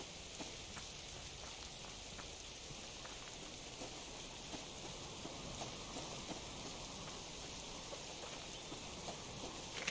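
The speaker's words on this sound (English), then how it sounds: "Oh, the rain. Damn it." Rain falling in the video game Subsistence, a steady dense patter of drops hitting surfaces, even and continuous with no voices.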